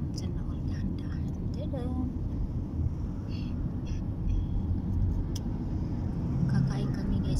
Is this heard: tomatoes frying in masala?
no